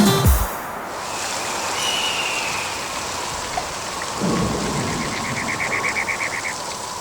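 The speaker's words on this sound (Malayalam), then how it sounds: "മാനമിരുണ്ടു കറുത്തു വന്നു, പെട്ടെന്നു പേമാരി പെയ്തിറങ്ങി." A thunderstorm with heavy rain opens on a sharp crack of thunder and a rumble, then a dense, steady downpour hisses on for the rest, with a second low rumble midway.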